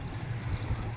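A jet ski speeds past off a crowded city beach in Yakutsk on a hot summer day, heard as a steady, fairly distant low engine rumble mixed with wind noise.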